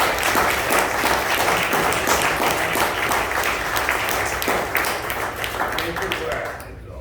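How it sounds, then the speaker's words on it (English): An audience at a Rhode Island housing investment event gives a full round of dense, sustained applause that tapers off at the end, with voices mixed into it. "So let's give a round of applause to all of those who have made this investment possible"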